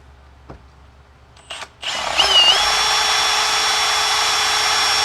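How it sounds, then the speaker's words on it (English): A power drill with a dull bit clicks, then spins up and bores steadily into material with a sustained high whine, close and fairly loud, no voices. "let's see if we can drill a hole"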